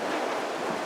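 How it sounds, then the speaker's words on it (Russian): Strong, cold, hurricane-like wind outside in the dark, a dense continuous roar with gusty rumble filling the whole brief moment, loud and close, without any voices. "Видишь, какой ветер сильный."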